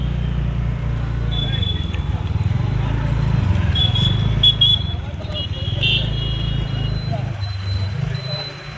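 Road traffic on the main highway at Mohammad Bazar under cloudy weather, a steady rumble of passing vehicles with an occasional horn, heard beneath ongoing talk.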